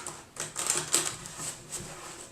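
Quick crisp riffling bursts of shuffled cards, a few short flurries close up, fairly quiet with no talking.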